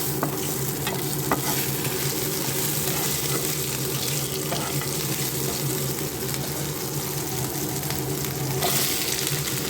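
Vegetables with halved green chillies, panch phoron, bay leaf and ginger fry in a pan with a steady, loud sizzle, while a spatula scrapes and stirs at intervals throughout.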